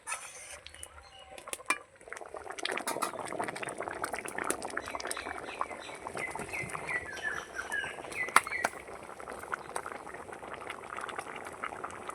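A pot of chana dal with ash gourd and slit green chillies boils steadily, a dense bubbling, gurgling texture that holds at a constant level throughout, with a brief clink near the middle and no talking.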